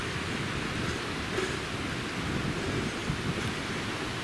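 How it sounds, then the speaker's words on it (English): Light rain spits down during a woodland walk near Routin Linn waterfall, heard as a steady, close, broadband hiss with a low rumble of wind or handling underneath, with no talking. "here's the rain spitting on, man"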